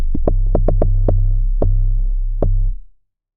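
Deep amapiano bass programmed in FL Studio, a booming sub tone with a string of punchy plucked attacks in an uneven rhythm, then sustaining before fading out near the end, heard alone.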